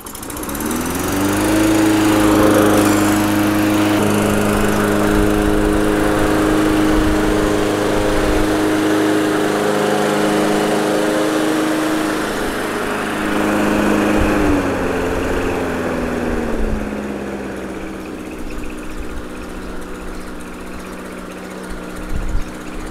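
A 1990s Honda HRS 21 lawn mower engine runs with no load, a steady buzzing drone with a clear harmonic hum that holds level, dips slightly in pitch, then fades toward idle near the end.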